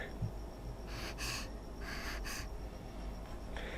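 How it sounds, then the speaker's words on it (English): Several heavy, breathy exhalations from a figure in the video game World End Syndrome come in bursts against a low steady hum, close and fairly quiet, with short pauses between them. "I hear heavy breathing."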